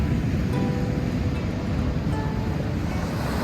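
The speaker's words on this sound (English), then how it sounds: "Big waves." Big ocean waves breaking at Sand Beach in Acadia, a loud continuous roar of surf mixed with wind buffeting the microphone, steady and unbroken with no talking.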